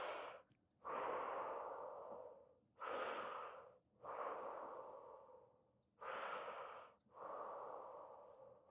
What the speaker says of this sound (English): And 6 breaths here.